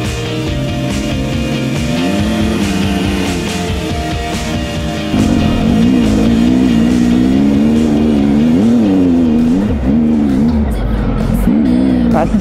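Adventure maxi-trail motorcycles roar on a motocross track with constant throttle, engine pitch rising and falling through revs, loud and close, with brief voices.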